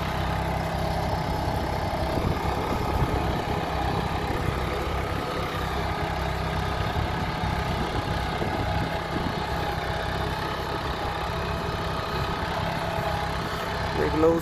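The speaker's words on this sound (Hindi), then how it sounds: "देख लो 25 इंच प्रीत टू व्हील ड्राइव में चल रहा है बड़े आराम से" Preet 2549 two-wheel-drive tractor engine running at low revs in a field, a steady chugging rumble throughout with a constant drone underneath.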